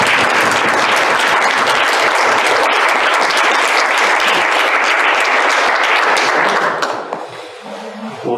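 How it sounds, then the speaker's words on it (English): Loud, dense applause from an audience at an event honoring friendship and activism, a sustained roar of many hands clapping close by that fades out sharply near the end. "Let's clap for that."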